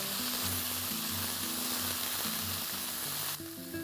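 Half a kilo of chopped ivy gourd stir-frying in a pan crackles with a dense, close sizzle, with steady scraping stirs in a regular rhythm and an abrupt drop in intensity near the end.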